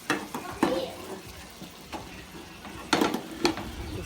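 Hot cooked white rice is stirred into vegetable fried rice in a pan: soft scraping and occasional knocks of a spoon against the pan, with faint sizzling underneath and a voice speaking in the background.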